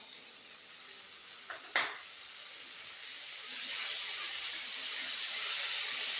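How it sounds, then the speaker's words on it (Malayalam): Chopped tomato sizzling in coconut oil in an iron pan, a steady close hiss that swells louder partway through, with a couple of brief clinks near the start. "ഇതിപ്പോൾ ഇരുമ്പ് ചീനച്ചട്ടി ആയതുകൊണ്ട് വെളിച്ചെണ്ണ ഉണ്ട് ഇതിൽ. കൂടെ തന്നെ നമുക്ക് ഒരു തക്കാളി ചെറുതായിട്ട് അരിഞ്ഞതും കൂടെ ചേർത്ത് കൊടുക്കാം."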